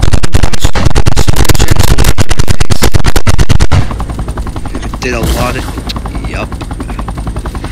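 Helicopter amid gunfire during a chaotic base battle in a video game, with loud rapid bursts of shots in the first half, then a steadier rotor-like drone underneath, and a voice speaking briefly.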